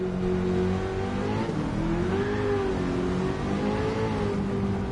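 A station wagon family car races in Gran Turismo 7 on a Tokyo touring-car circuit, its engine droning loud and steady, pitch rising and falling through gear changes and throttle.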